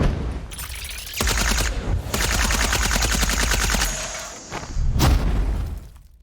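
Dense gunfire sound effect with rapid, loud, abrasive shots and a chattering, machine-gun-like burst, pausing briefly before a final sharp blast.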